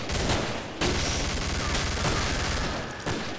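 Dense, continuous blaster gunfire in the co-op shooter Killing Floor, a loud unbroken barrage with a few sharper bursts standing out over the roar.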